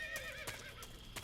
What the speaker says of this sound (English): Is that a horse?